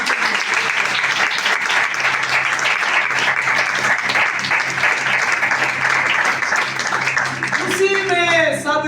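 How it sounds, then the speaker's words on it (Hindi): A congregation applauds during a Christmas sermon, loud continuous clapping filling the room, with a voice and some musical tones rising near the end. "आए तालियां बजाएंगे।"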